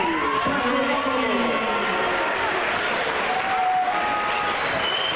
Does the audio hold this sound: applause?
yes